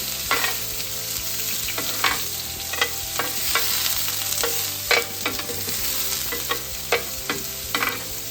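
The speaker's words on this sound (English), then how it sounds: "immediately add your vegetables, right? Start sauteing them" Vegetables sautéing with browned garlic in a pan, a steady close sizzle broken by repeated scraping stirs at irregular intervals, no voices.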